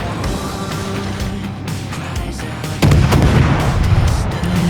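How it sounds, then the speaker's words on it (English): The destroyer Gearing fires its guns in World of Warships, heavy booming naval gunfire that swells into a louder, thicker roar of salvo blasts partway through, over a constant low rumble. "So I'll open up with guns before he comes into range"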